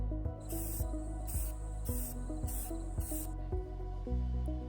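Spray paint hisses onto a 3D print in five short, evenly spaced bursts of bright hiss, each about half a second, over a low rhythmic background hum.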